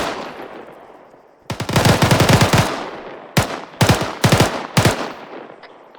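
Automatic gunfire in ArmA 3 during a squad compound firefight: one long sustained burst, then four short sharp bursts in quick succession, loud and close, with no talking.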